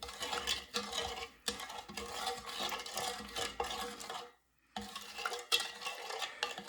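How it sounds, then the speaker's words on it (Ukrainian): A spoon scrapes and clinks steadily around a container, stirring sugar into warm water in a continuous rhythm with one brief pause. "Такою все перемішуємо, щоб він розчинився"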